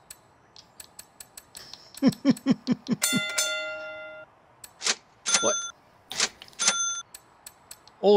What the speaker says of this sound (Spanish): ¡Oh, la caja registradora!